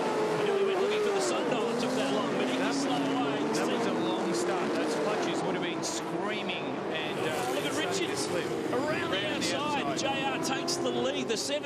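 Touring Car Masters race cars, Mustangs, a Javelin and a Camaro among a 30-car field, roar off the start with engines droning and rising continuously while a commentator talks over the noise.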